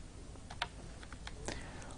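Several quick taps on a computer keyboard as a number is entered, light clicks spread across two seconds at low volume.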